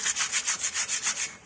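Sandpaper of grade 60 or 80 rasps back and forth over a car brake drum in about eight quick, even strokes, close and scratchy, with no voices.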